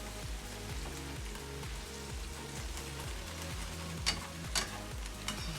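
Thickly sliced onions fry in a pan with a soft, steady sizzle, accompanied by a repeating low mechanical hum and a few sharper clicks near the end; no voice is heard.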